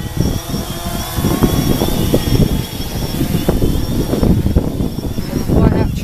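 A DJI Phantom 3 Standard quadcopter drone flies back toward the operator outdoors, its steady propeller whir running continuously at moderate distance beneath wind noise, with a faint high-pitched motor tone throughout.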